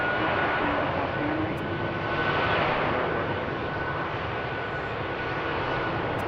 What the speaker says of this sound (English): That plane is lining up for takeoff.